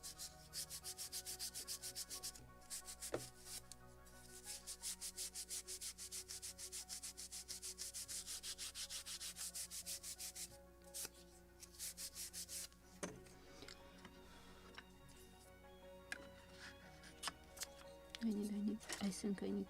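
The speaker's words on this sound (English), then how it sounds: "Polishing with Scotch-Brite." Scotch-Brite pad scrubbing the wooden deck of a 1776 gunboat Philadelphia model ship kit, a long stretch of quick, steady rubbing strokes close up, then fading into a few lighter scrapes and faint knocks near the end.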